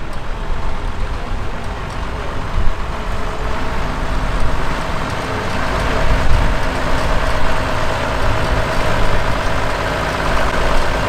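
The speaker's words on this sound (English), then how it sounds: "Up next, we have some special high crop cane tractors that would have farmed in Louisiana and Florida" International Harvester high crop cane tractors, including a high clear Farmall 966 and a Farmall 560, rumble loudly with a steady diesel idle and low throb, with slight swells as engines rev nearby, and faint crowd talk underneath.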